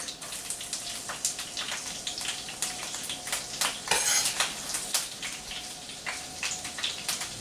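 Garlic drops into melted butter in a hot pan, bringing a brief louder sizzling burst midway amid scattered metallic clinks and scraping of a utensil against the pan.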